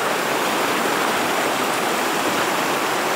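Razdolnaya river at Pokrovka, a loud, steady broadband rush of flowing water, continuous and close with no pauses.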